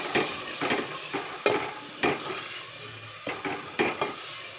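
Yogurt being stirred into onion paste in a pot for Mughlai chicken, a spoon scraping and clacking against the pan in irregular strokes, close and fairly quiet with faint sizzling underneath.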